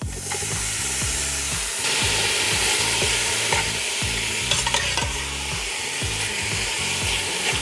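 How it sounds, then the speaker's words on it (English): Inch-long bacon pieces sizzle steadily in a hot pan, a loud, close crackling fry with occasional scrapes of stirring, no voices over it. "we are going to cook that until crispy"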